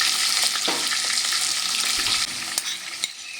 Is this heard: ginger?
yes